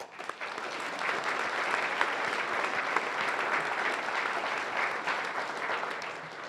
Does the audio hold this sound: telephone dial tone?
no